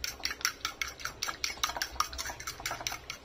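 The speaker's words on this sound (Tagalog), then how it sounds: "So yan guys, binati ko na yung itlog." An egg being beaten in a bowl with a utensil for a chicken-rib and malunggay nido soup, a quick run of close, regular clinking taps against the bowl.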